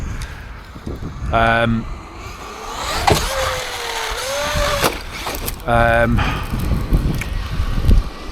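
An ARRMA Granite or Traxxas Maxx RC truck runs close by, its electric drive giving two short, rising whining bursts over a steady background hiss, with a voice talking in between.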